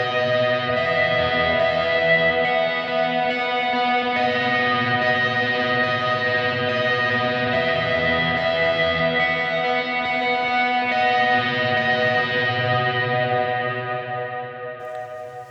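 Sustained electric guitar chords drenched in big reverb with light overdrive and a trailing delay, playing steadily and fading at the end.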